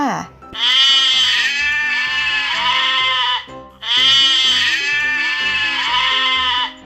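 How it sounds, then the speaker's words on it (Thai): A goat bleats twice in loud, close, wavering cries, each lasting about three seconds with a brief pause between them. "เสียงของแพะนั่นเองค่ะ"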